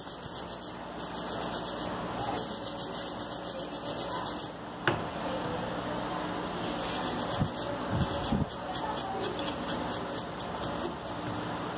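Close, steady small-brush scrubbing rasps back and forth over a water-damaged Moto G6 Play circuit board, with a few small taps and knocks in between.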